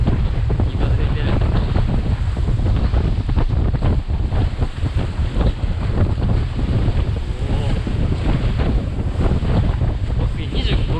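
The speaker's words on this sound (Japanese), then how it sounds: "いい風吹いてる" Strong gusting wind roars across the microphone while a sailing yacht moves fast through water in rain, with rushing spray and no clear speech.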